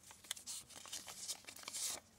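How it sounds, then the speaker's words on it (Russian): A small paper surprise packet is torn open close up, with quiet crinkling and short tearing rips over about two seconds. "Дальше давайте откроем вот такой вот пакетик «Времена года»."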